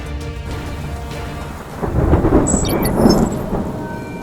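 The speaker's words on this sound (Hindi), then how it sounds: "भारी बारिश के बीच" Steady heavy rain hisses throughout, with a deep rolling rumble of thunder swelling midway and fading out.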